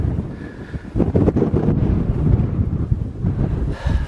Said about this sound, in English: It's gusting quite a bit.